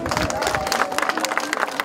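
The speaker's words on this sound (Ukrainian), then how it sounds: "Зустріти безвіз разом з президентом зібрався величезний натовп" A large crowd greets the Ukrainian president at the Slovak border crossing in Zakarpattia, with a steady wash of clapping, cheering and babbling voices close by.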